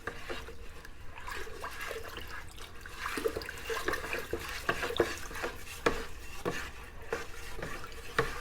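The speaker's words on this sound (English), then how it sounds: "I'm just going to give this a quick stir just to get that honey all incorporated in." A spoon stirs honey into hot tea in a pot for mead, making a soft, continuous swishing with faint scattered clinks against the container, quiet and close.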